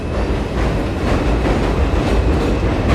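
A New York City subway train rumbles along the tracks in the Bronx, loud and close, with a steady roar and rhythmic clatter of wheels the whole time.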